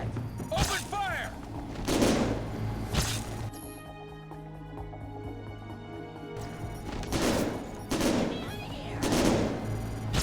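Gunfire in the shooter Syphon Filter: Dark Mirror, with loud bursts of automatic and single shots in several clusters and a short quiet stretch in the middle, mixed with game voices shouting.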